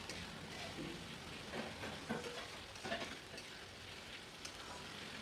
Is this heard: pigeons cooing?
no